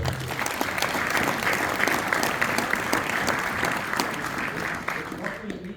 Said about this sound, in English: everybody should give her a round of applause